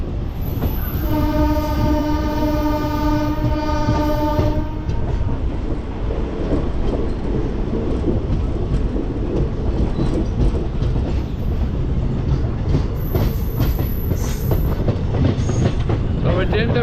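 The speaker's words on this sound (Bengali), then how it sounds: "তবে ট্রেনটা ভীষণ ভালো ট্রেন" A train on the run toward Bagdogra via Naxalbari: a loud sustained horn blast opens, then the steady rumble and rhythmic clickety-clack of wheels on rails continue close up, with faint squeals near the end.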